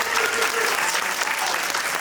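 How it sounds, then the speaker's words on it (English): Steady applause from a convention panel audience at Spooky Empire 2024, dense continuous clapping throughout at a consistent, fairly loud level. "Let's give a round of applause for them."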